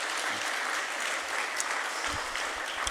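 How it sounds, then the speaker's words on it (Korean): A church congregation at a Wednesday worship service applauds in thanks for a visiting missionary, a steady, dense wash of clapping hands sustained throughout at even volume. "귀한 은혜 나눠주신 이용남 선교사님께 감사의 박수를 드리도록 하겠습니다."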